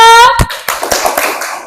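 A classroom of students performs a rhythmic clap chant after a sustained sung tone, with a few sharp, distinct claps spaced irregularly through the short burst, close and fairly loud.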